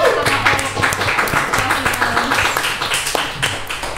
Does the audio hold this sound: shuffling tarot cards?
no